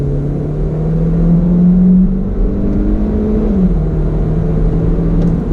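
A 2019 Hyundai Elantra GT engine drones steadily after a manual downshift to second gear, holding a continuous hum that steps up and then settles back down, close and fairly loud with no talking.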